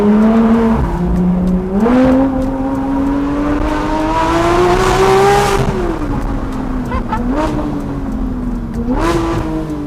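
A Porsche GT3 RS engine roars and revs hard, its pitch climbing through gears with raspy, loud acceleration and brief dips between shifts, heard from inside.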